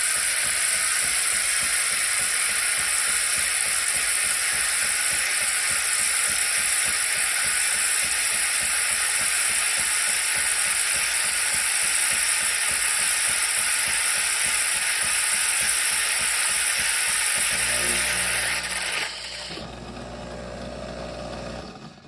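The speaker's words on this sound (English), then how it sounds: "So this is a mid-frothing sound." A Philips LatteGo fully automatic coffee machine frothing milk gives a loud, steady steamy hiss with a fast rattling pulse underneath, then softens and changes tone near the end.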